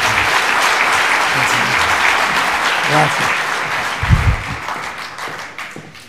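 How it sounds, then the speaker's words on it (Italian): Audience applause fills a conference hall at a financial meeting in Rome, steady broadband clapping with a swell and thump of louder claps near the end before fading; someone speaks briefly over it. "Un grande applauso, grazie"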